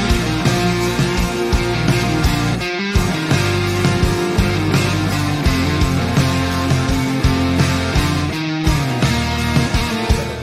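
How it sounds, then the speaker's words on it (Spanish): Strummed guitar opening of a song, a full band mix with steady rhythmic chords and bass, loud and continuous with a brief drop near the third second, no voices. "es una buena apertura con un tema que se inicia con este buen guitarreo"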